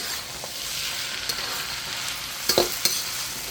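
Thai fried rice with pineapple, basil and cashew nuts is tossed and stir-fried in a pan, giving a steady close sizzle with a few sharp scraping clinks near the end, no voices.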